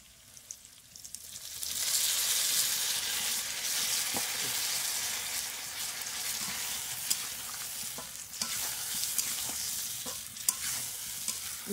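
Spices with salt, turmeric, sugar and mustard paste being stirred in a pan, a bright steady sizzle swelling up after a quiet start, with occasional sharp clicks of the spoon against the pan.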